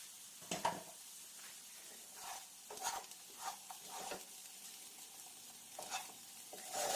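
Repeated spoon scrapes and stirring strokes as okra fries in a pan over a low, steady sizzle, with brief louder clatters spaced through.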